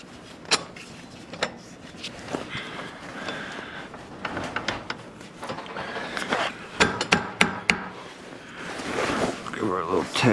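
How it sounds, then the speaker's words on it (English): A hammer taps U-bolts onto the rear axle of a 1997 Dodge 3500, a series of sharp metallic knocks in quick clusters amid clanks and workshop noise, with a voice talking over parts. "Give her a little tap. Tap the U-bolts in there."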